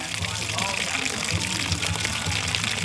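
Water pours steadily out of a garden hose into a backyard garden, a continuous broad gushing rush at close range with no voices over it.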